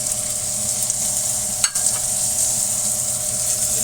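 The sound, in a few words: onions sautéing and sizzling in a pan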